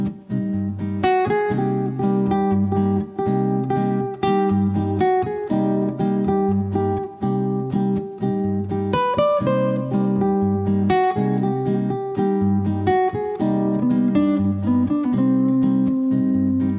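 A clean electric guitar plays a melodic lick over repeating bass notes, steady and moderately loud, with no talking.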